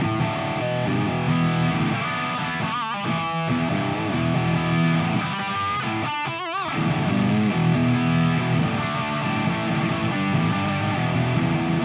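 Heavily overdriven electric guitar plays chords and riffs through a Marshall MG100FX amp's Overdrive 1 channel, traditional Marshall high gain, thick and saturated, with a few sharp muted chugs, steady and loud throughout.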